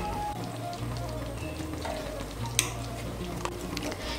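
Banana flower curry (mochar ghonto) with ghee and green chillies is stirred in a pan, a soft steady sizzle with occasional spoon scrapes and clicks, fairly quiet, and nobody talks.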